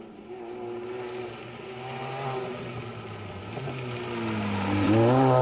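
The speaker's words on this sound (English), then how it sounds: "Tim Green and Jordan Joins coming through there." A rally car on a gravel special stage of the Cambrian Rally approaches, its engine note rising and shifting through gears before swelling loudly as it nears.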